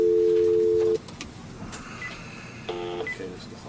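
A telephone keypad being punched in, giving two bursts of steady beeping dialing tones with background noise between them.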